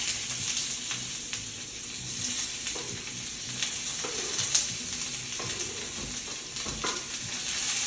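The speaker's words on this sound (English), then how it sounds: "So I'm going to sear off peppers," Peppers and onions searing in a hot pan, a steady bright sizzle with occasional stirring scrapes and soft clatters, close and continuous without any talking.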